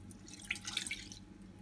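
Two-thirds of a cup of water poured into a cooking pot while making ice cream filled profiteroles: a short splashing pour with a few drips, close and fairly quiet over a low background hum.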